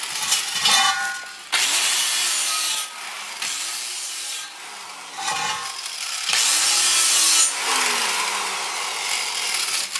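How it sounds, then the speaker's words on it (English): An angle grinder cleaning weld spatter off the bead of a 16.5-inch Jeep bead-lock wheel, in several loud abrasive bursts with the motor whining up and down between passes, close and without talk. "grinder across this bead here. What it does is it cleans up some of that weld splatter on the bead."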